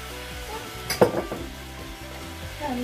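Spring onion tossed into a wok of sizzling stir-fried blue crabs with ginger and garlic, a soft frying hiss with a brief clatter of utensils against the pan over faint background music.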